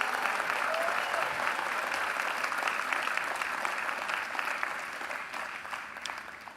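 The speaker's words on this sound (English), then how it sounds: "Another round of applause for the class of 2023." A large commencement crowd at Morehouse College applauds the graduating class of 2023, a dense, steady wash of clapping that holds strong and begins to thin slightly near the end.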